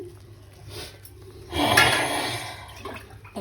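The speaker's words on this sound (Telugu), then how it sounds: "కొంచెం వాటర్ వేసుకుని" A short splash of water poured into a bowl of batter, rising suddenly midway and trailing off, preceded by faint handling sounds.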